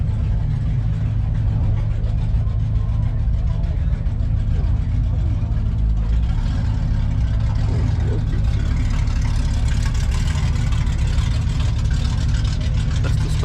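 Stock engine of a Pontiac Firebird runs steadily at a car show cruise-in, a constant low rumble throughout with people talking nearby over it.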